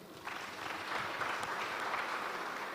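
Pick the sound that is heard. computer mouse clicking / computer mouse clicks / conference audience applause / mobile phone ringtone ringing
conference audience applause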